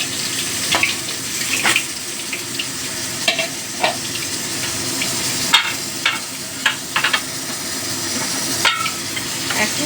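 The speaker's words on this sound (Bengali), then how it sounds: "একইভাবে সব মাছগুলো ভেজে নেব।" Pomfret fish sizzle while frying in hot oil in a pan, a steady crackle broken by sharp clicks and scrapes of cooking utensils.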